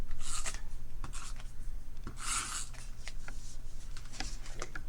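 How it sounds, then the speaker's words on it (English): Adhesive goes onto a paper scrapbook layout in short scratchy rubbing strokes, a run of quick rasping swipes close to the microphone over a faint low hum, with no talk. "So I'm going to put some adhesive on it."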